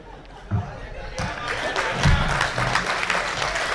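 Audience applause from a live crowd, rising to a broad steady clapping wash after a brief quieter start, with crowd murmur mixed in and no clear single voice on top.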